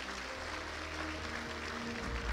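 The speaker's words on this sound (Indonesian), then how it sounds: "Tepuk tangan untuk beliau." Applause at a business seminar for a company owner: a dense, hissy clapping texture at moderate level over a low, steady hum from the room or sound system.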